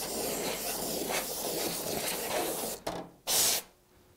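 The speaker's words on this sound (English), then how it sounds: "we want to make sure that we get our compressed air into that cavity" Compressed air blasted into the duplex cavity of an Oki C711WT white toner printer: a steady hiss from the nozzle, then a louder, sharper burst near the end before it tails off.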